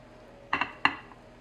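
A few quick clinks of a utensil against a mixing bowl as dry ingredients go into apple cake batter: two close taps, then one more, fairly quiet and with no talking.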